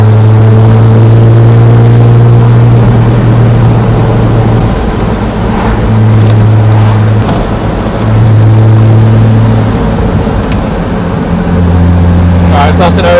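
A 1959 Austin Healey 3000 sports car cruises in overdrive, its engine a loud, steady low rumble running throughout while people talk over it.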